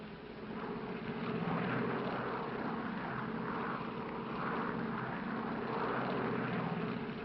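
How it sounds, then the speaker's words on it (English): A 1940s propeller airliner taxiing at Los Angeles airport gives off a steady, droning engine hum. The hum swells and eases slightly over several seconds, sounds muffled and fairly close, and plays alone without speech. "Los Angeles Tower, this flight 649, ready for taxi instructions."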